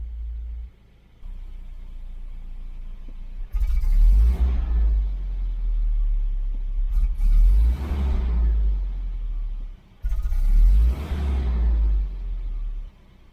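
A Volvo 740 engine idles with a low, steady rumble, broken by a few heavier surges of low-end throb from close by.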